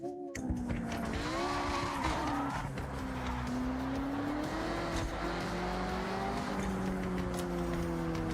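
A car in the Forza Horizon 6 racing game drives hard, its engine revving and droning through gear changes with tyres squealing and skidding, loud and continuous with no talk.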